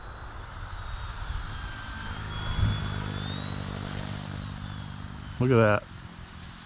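Durafly AUTO-G2 V2 RC autogyro flying fast, a thin distant whine rising and falling in pitch as it passes, with someone speaking briefly and a short nearby noise near the end.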